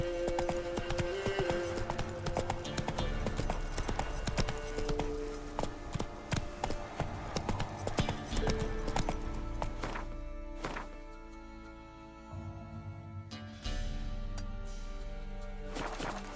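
Horse hooves clip-clop at a steady galloping pace in The Witcher 3, mixed with game music and ambient effects, continuing throughout with a few heavier thuds.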